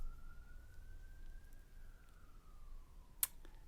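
A distant siren wails in a long, slowly rising and falling tone over low rumbling background noise, with a brief sharp click near the end.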